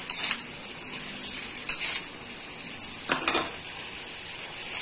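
Vegetables sizzling and frying in a pan for a monggo stew with pork, a steady close hiss with a few stirring scrapes and clinks of a utensil against the pan.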